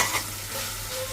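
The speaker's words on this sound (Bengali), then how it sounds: "পেঁয়াজটাকে লাল লাল করে ভেজে নেব।" Onions fry in oil and are stirred in a pan, with a brief, soft, close sizzle and scraping and no speech.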